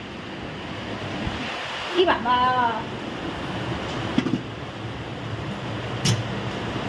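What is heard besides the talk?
heavy rain with wind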